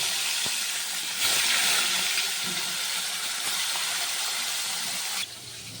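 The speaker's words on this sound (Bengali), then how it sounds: "এবার এই ভেটকি মাছের কাটা দিয়ে দিয়ে দিলাম।" Bhetki fish bones dropped into hot oil in a pan, a steady loud sizzling hiss that stays constant, then eases slightly near the end.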